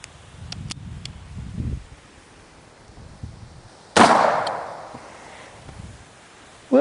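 A .44 Special revolver fires a 200 grain lead flat nose bullet in a single sharp, loud report partway through, preceded by quiet handling noises and followed by a fading echo.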